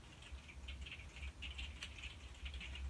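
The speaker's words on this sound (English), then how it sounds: "you may be able to hear the pitter patter of raindrops on the conservatory roof" Rain patters steadily on a conservatory roof, a light, continuous scatter of small drops with one sharper tap, heard alone and fairly soft.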